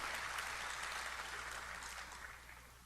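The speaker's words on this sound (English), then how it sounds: "let's give a round of applause for Kathy Smith" Round of applause from an audience at an educational summit, steady clapping from many hands, moderately distant and fairly quiet, tapering slightly toward the end.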